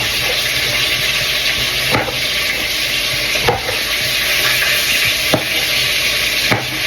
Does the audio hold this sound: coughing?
no